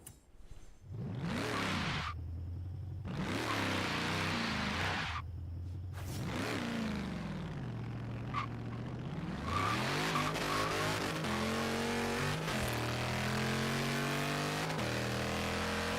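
Dodge Demon drag car in Forza Horizon 3 launching hard with tire squeal, engine revving through rapid upshifts, loud and close with a rising roar through the run and no talk.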